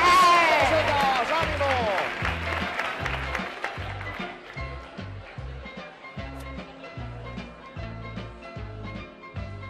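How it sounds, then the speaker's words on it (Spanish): Studio audience applauding a contestant on a 1993 Spanish TV game show, with a loud burst of clapping at first that gives way to rhythmic music. "Vamos a darle un fuerte aplauso a Pili para que tenga mucha suerte"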